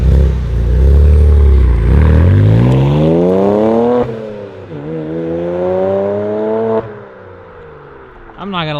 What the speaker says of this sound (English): I'm just gonna get some nice revving